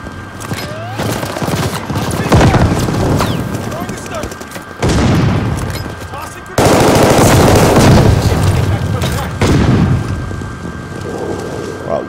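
Rapid bursts of automatic gunfire and heavy weapon shots in Call of Duty Vanguard multiplayer, loud and close, coming in dense volleys with brief lulls and booming impacts.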